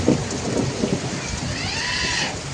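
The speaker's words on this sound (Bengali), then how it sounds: "বাইরে প্রচণ্ড ঝড় বৃষ্টি হচ্ছে" A sudden nighttime thunderstorm with heavy rain outside: a rolling thunder rumble sits over a steady wash of rain, loud and fairly close, with no one speaking.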